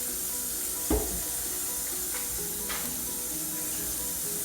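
Water poured into a hot pot of Jamaican stew peas with pig tails, giving a continuous hissing sizzle with a soft splash near the start and faint clinks.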